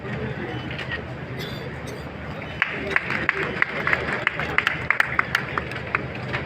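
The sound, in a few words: audience applause for guests at a ceremony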